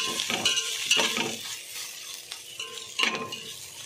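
Chillies fry in a pan for gongura chutney with a moderate sizzle and hiss, while a few clinks and scrapes of a stirring utensil sound close by. No voices are heard.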